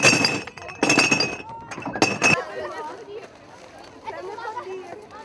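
Glass bottles clatter and smash in a few sharp, bright bursts as rubbish is sorted into glass, paper and plastic, followed by quieter rustling and clinking as people talk nearby.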